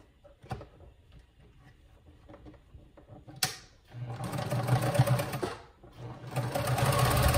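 A sewing machine stitching the fabric of a nurse's headband: after a few faint clicks and a sharp knock, the motor whirs in loud, close bursts with a brief pause between runs.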